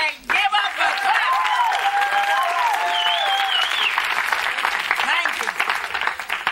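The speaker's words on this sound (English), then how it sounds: "Put them hands together and give up a clap." The studio audience of the comedy sketch show In Living Color breaks into loud, sustained applause mixed with cheers and whoops, steady throughout with no one speaking over it.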